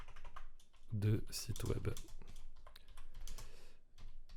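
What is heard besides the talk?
typing on a computer keyboard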